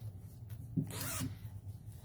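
A zipper on a handmade dyed-fabric zipper bag with a little pull tab, one short quiet zip lasting about half a second over a low room hum.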